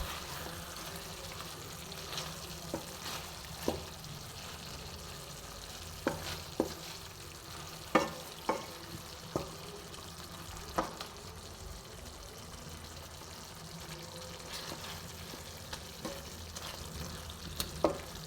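Vegetable and fish curry being stirred in a pan after garam masala is sprinkled in, giving a low steady simmer with scattered scraping and tapping clicks from the spoon, fairly quiet and close.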